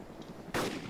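A single sharp airsoft gun shot cracks out at mid-distance during an outdoor squad-versus-squad airsoft game, a brief loud burst that follows a quiet, breezy stretch.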